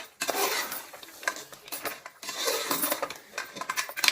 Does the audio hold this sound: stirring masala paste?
yes